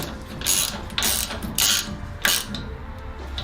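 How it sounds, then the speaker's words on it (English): A ratchet fitted with a 19mm socket tightens a nut in four or five close, crisp bursts of rapid clicking, loud and alone. "Ratchet, 19mm socket, snaps together nicely. Straight onto that nut."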